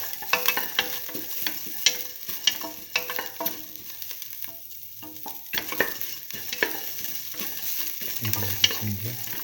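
Garlic fries in a pan with salt, a crackling sizzle interrupted by repeated scraping strokes of a stirring spoon, up close, with a brief quieter lull midway.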